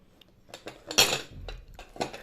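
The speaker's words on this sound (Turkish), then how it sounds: "Bekle şimdi tabakları karıştıracağım." Plates are shuffled around on a table during a children's guessing game, with several dish clinks and scrapes, one louder clatter in the middle, close and without talk.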